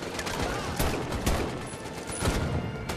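Sniper rifle and battle gunfire in Medal of Honor: Above and Beyond, a VR war shooter, with scattered loud cracks over a dense, noisy firefight background.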